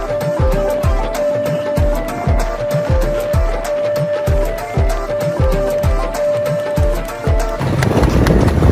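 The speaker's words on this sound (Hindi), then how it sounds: "ये जी रेसर घोड़ा है जी ये, और उसके ऊपर राइड चल रही है।" A racing horse gallops along a road in Tret, near Murree, its hooves beating a steady rapid clip-clop rhythm up close, with a constant engine drone underneath and a sudden burst of louder noise near the end.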